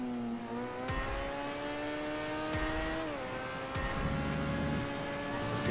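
Car engine in GTA 5 revving through gear changes, pitch climbing steadily then dropping at each shift, with occasional thumps, a continuous close engine drone and no talk.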